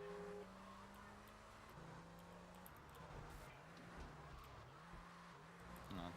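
A car engine drones and shifts through gears in Grand Theft Auto III, its revving tones rising and falling steadily over several seconds with faint tire noise, quiet and distant in the mix.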